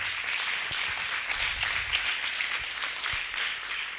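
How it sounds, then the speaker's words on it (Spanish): Congregation members clap in praise to the Lord during a church sermon, a steady, fairly loud wash of applause with a few low thumps beneath it. "Yo le daría ese fuerte aplauso al Señor."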